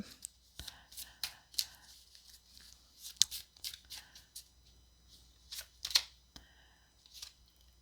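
Tarot cards shuffled by hand for an advice card, a run of crisp, close riffling and slapping bursts in an irregular rhythm over a quiet background.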